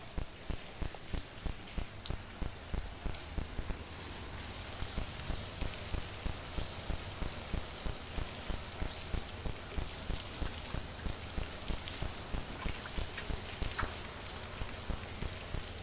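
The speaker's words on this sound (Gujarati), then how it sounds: "તો મિત્રો, વરસાદ ચાલુ જ છે અત્યારે ને ધોધમાર પડે છે." Heavy first monsoon rain of the season pours down at night as a steady broadband hiss, with regular soft thumps repeating throughout and a brighter, louder stretch in the middle.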